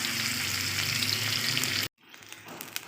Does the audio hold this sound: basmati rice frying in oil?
yes